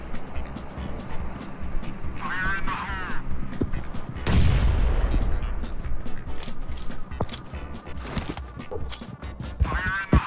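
A bomb drops and explodes mid-match in a shooter game, a heavy low boom in the middle of the clip. It sits amid steady gunfire, vehicle rumble and busy game noise.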